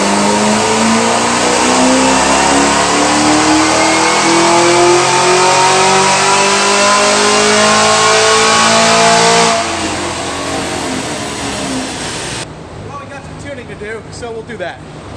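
Camaro ZL1 engine screaming through a dyno pull, a loud sustained rising roar that climbs steadily in pitch, then cuts off and falls away into a lower idle rumble.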